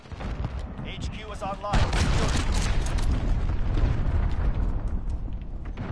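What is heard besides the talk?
cruise missile explosion in Modern Warfare video game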